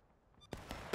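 Musket volleys in the Civil War game War of Rights, with a few sharp broadband cracks arriving in quick succession, the loudest bursts near the end, over a quieter ambient bed.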